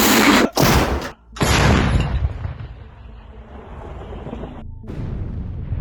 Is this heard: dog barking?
no